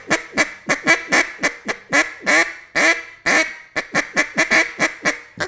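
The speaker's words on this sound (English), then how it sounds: "That's the quack. The basic." A duck call blown in a run of short, sharp quacks, about fifteen in a steady rhythm with a few drawn out slightly longer, close and loud with no talking.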